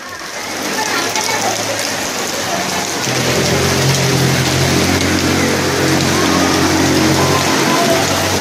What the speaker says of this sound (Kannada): ಮಳೆ ಬರ್ತಾ ಇತ್ತು ನೋಡಿ, ನೀರು ಬರ್ತಾ ಇತ್ತು ವಿವಿಪುರಂ ಮೇಲೆ.